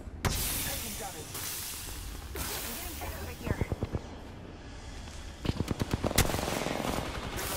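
Rapid bursts of automatic gunfire from the battle-royale game Apex Legends rattle in two clusters, the second louder and closer, over a dense bed of game ambience and hissing effects, with a voice heard alongside.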